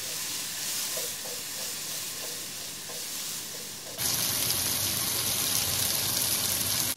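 Tomatoes fry in a pan, a steady sizzle with a few soft stirring taps. Partway through the frying suddenly turns much louder and hissier, then stops abruptly at the end.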